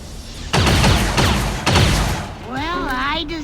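Gunfire in the video game XCOM 2, with two loud sharp bursts of shots close up over a steady background, followed by a warbling whine as game voices sound at the end.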